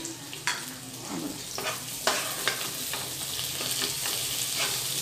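Masala bhendi, an okra fry freshly topped with coriander, is stirred in a hot pan: a continuous loud sizzle with scraping spatula strokes and occasional clacks, close up and with no talking.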